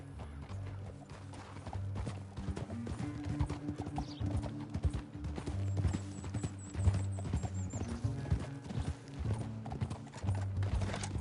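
Horse hooves clip-clopping in a PS4 video game, a brisk steady trotting rhythm with a brief whinny, accompanied by in-game music and ambience, with no talking.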